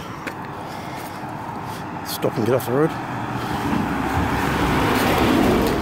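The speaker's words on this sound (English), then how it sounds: "here comes a FedEx truck." A FedEx delivery truck approaches and passes on a road during a walk in New Milford, its engine and tyre noise swelling steadily to a loud rush over the last few seconds, with brief speech from the walker.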